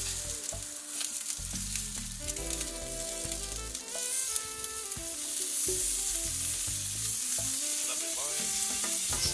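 Steak cooking on a backyard barbecue grill just after being flipped, giving a steady loud sizzle and spit of fat that runs continuously, with some clinks and stirring noises on top.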